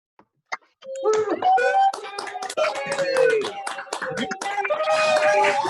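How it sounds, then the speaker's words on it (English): Graduates at an online executive MBA commencement applaud over unmuted microphones: scattered taps and claps followed by a jumble of overlapping voices and cheers from many separate feeds, close and compressed. "Please unmute your microphones in applauding your fellow graduates."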